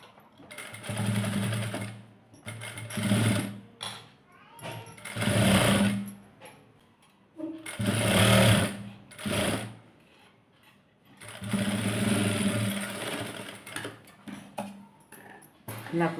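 Sewing machine stitching piping onto cloth, running in several loud close bursts of rapid mechanical whirring with short stops between.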